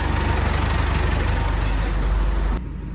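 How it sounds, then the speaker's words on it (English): A tractor engine, a 6265, runs at a steady low idle close by, a continuous rumbling drone that drops in loudness near the end. "today you hear the tractor going"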